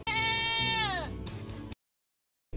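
A single loud, drawn-out bleat from a goat, close and clear, wavering before it breaks off and falls silent.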